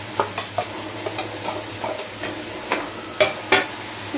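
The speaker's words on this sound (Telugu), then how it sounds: "ఇదిగోండి టమాటా క్యూరీ అయితే వేసేస్తున్నాను." Tomato puree goes into a hot frying pan for tomato rice, giving a steady sizzle broken by scattered scraping stirs, close up and with no voices.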